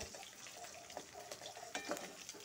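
Thin slices of sea fish fry in oil in a pan, a constant soft sizzle with small crackles and a few spatter pops, fairly faint and close.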